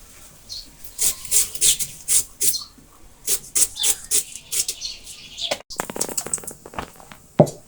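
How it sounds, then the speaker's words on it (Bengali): Onions and chilies being cut for cooking, a series of crisp knife strokes and scraping rubs on a board in irregular bursts, close and fairly quiet with a sharp clack near the end. "পেঁয়াজ মরিচ কাইটা রান্না শুরু করে দিতেছি"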